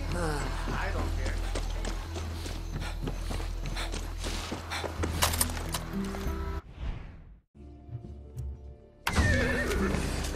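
A horse in the video game Far Cry 6 whinnies loudly over steady game sounds and low rumbling, then the sound cuts out briefly before resuming.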